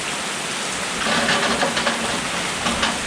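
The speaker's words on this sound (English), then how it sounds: "I don't even know if y'all are going to be able to hear me with all this rain." Heavy tropical-storm rain pours steadily, a dense, loud hiss of drops on surfaces that swells slightly after the first second and stays constant throughout.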